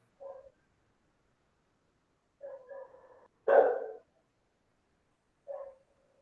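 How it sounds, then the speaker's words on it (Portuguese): A dog barks four times, with short separated barks and one louder, longer burst in the middle, distant and alone against a quiet background. "Tem um cachorro latindo aí."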